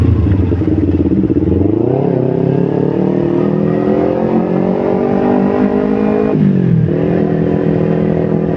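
A motorcycle engine running on Shell Advance AX7 semi-synthetic oil revs up close and loud, climbing in pitch, holding a steady high whine, then dropping briefly before rising again, with a constant mechanical clatter underneath.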